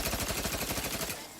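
Rapid automatic gunfire in The Outer Worlds 2, a fast, even burst of close shots that stops abruptly after about a second.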